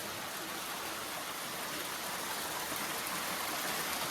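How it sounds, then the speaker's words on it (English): A waterfall rushes nearby on a hike, a loud, unbroken roar of falling water that holds steady with no talking. "This is the waterfall I saw on Google Maps."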